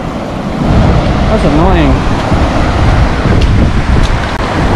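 Ocean waves washing over a beach where cowry shells are collected, a steady loud broadband roar of surf throughout with a brief spoken remark over it.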